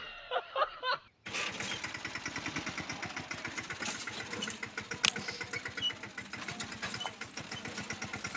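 A tractor hauling harvested cumin runs with a steady rapid chugging engine throb after a brief break of other sound at the start, continuous and fairly close.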